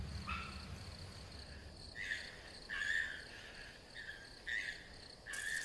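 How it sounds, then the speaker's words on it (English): Cicadas call in shrill, buzzing bursts that swell and fade in an uneven rhythm, moderately close against a soft natural background, with no voices. "Some of the cicadas have reached their destination."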